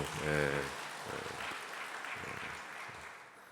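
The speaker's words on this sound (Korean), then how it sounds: "여러분 다시 한번 좀 박수 한번 좀 보내주십시오" Church congregation applauding after a special hymn, a steady wash of clapping that starts with a brief sung or spoken tone and then carries on evenly to the end, moderately distant.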